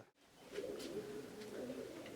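Pigeons kept in a mesh cage coo softly, with a few low, throaty calls that overlap close by in quiet surroundings.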